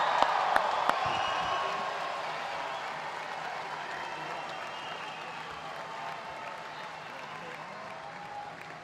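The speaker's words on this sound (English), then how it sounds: "let's all guests right now get a loud cheer for our future graduates" Graduation crowd at a high school commencement ceremony cheering and applauding loudly, a dense wash of clapping and whoops that stays steady throughout and slowly fades slightly toward the end.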